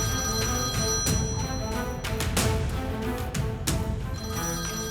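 A telephone rings indoors in a Turkish drama scene, a sustained bright ringing tone that continues throughout over background music with a few sharp knocks and clinks.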